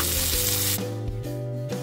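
Meat seasoned with salt and pepper sizzles loudly in a hot frying pan in a brief, close burst of crackling, with no voices.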